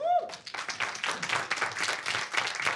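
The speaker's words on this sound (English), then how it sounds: "everyone give a round of applause" College students in an audience clap for a volunteer joining a magic act, a brief vocal tone up front giving way to scattered, moderately loud clapping that continues throughout.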